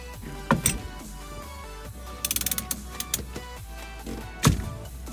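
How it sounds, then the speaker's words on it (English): A steering wheel puller being tightened on a car's steering wheel, heard as a quick series of ratcheting clicks, scattered mechanical knocks, and a sharp loud pop near the end as the wheel breaks free. "Once you've heard that pop, that means your steering wheel is removed."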